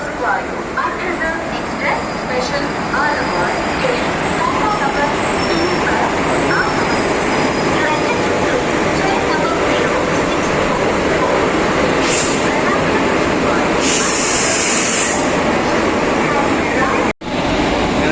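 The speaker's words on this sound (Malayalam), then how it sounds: "ആലുവ സ്റ്റേഷനിൽ നിന്ന് അങ്ങനെ ഗുരുവായൂർ ട്രെയിൻ മന്ദം മന്ദം നീങ്ങി തുടങ്ങിയിരിക്കുന്നു" Loud, constant rumble of a passenger train slowly departing Aluva station, heard from close by, with a brief high hiss partway through and voices faintly mixed in.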